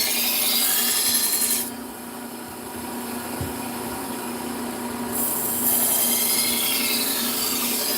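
A knife is sharpened with steady rhythmic rasping strokes against an abrasive, close and continuous, with a brief softer stretch in the middle; no speech.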